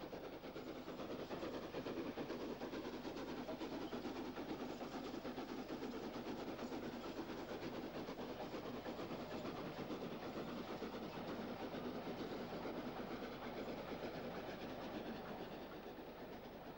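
A mixed train with a goods brake van runs steadily along a UK branch line in 1962 with a continuous rumble and faint rhythmic clatter of wheels on rail joints, moderately distant, no voices.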